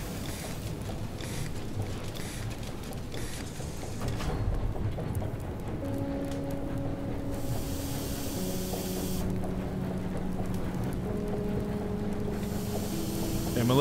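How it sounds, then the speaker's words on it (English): In the video game Far: Changing Tides, a submarine engine runs with a constant low rumble and watery rush, and steady droning hum tones join partway through and persist to the end. "I'm a little bit bad at overheating this engine."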